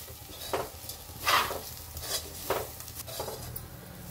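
A spoon stirs onion chutney with dried coriander in a pan, producing several distinct scraping strokes and soft clinks against the metal over a faint low sizzle.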